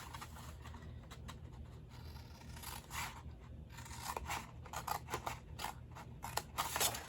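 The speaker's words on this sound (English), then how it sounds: "And straight down the score line, we're cutting it." Scissors snipping paper along a score line for a large wide gift bag, a run of quiet close rasping cuts that grows a little busier toward the end, no talking.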